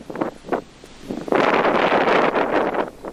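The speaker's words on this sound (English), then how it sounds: "Like I said, it is very windy here." Strong wind gusts outdoors on a farm with Shetland ponies, rising to a loud, steady rush against the microphone after a few brief puffs at the start, with no talking.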